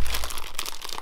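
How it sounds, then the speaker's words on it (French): Packaging for Yamaha Banshee parts crinkles and rustles in a brief, close burst of plastic crumpling and tearing as it is unwrapped. "Allez, c'est parti, déballage."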